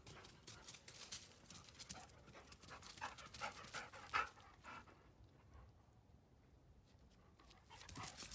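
A dog pants in a backyard it has dug up, a quick, steady run of breaths with faint footfalls mixed in, close by and fairly quiet.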